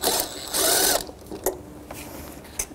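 A ratchet with an 8 mm socket loosens a hose clamp on a 2006-2012 Toyota RAV4, giving a loud mechanical whirring burst of about half a second, followed by faint scattered clicks and knocks.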